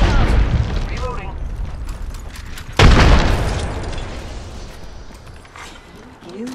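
A grenade blast from the game Apex Legends lands as one loud, close boom with a long rumbling decay, preceded by gunfire and mechanical clatter, while voices speak across it.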